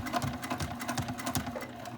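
A sewing machine is hand-cranked slowly through thick sling fabric at a D-ring, giving a steady, close, uneven run of stitching clunks and whirring with no voices.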